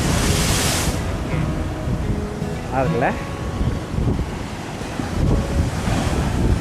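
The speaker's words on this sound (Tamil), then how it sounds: "அடுத்த அலை வருது, அடுத்த அலை வருது." Ocean waves break on a shore in a loud rushing surge, with wind buffeting the microphone and a steady wash of surf, while a person speaks briefly over it.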